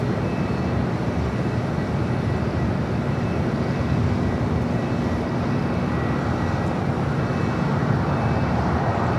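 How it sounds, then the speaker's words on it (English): A Boeing 757-300 airliner touching down on the south side runway at LAX, heard as a steady, broad jet-engine roar that holds at an even level throughout, with no speech. "757 to 300 touching down here on the south side"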